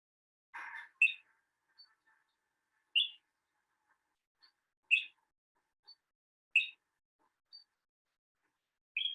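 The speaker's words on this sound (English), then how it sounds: "They're called a fernbird or matata." A fernbird, or matata, in a Tauranga wetland gives short, sharp chirps at regular intervals, about six of them, clear and moderately close against silence, after a brief buzzy opening note.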